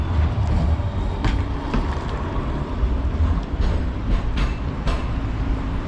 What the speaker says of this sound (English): Here's some trams.